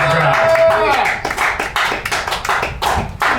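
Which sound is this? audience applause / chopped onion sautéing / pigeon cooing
audience applause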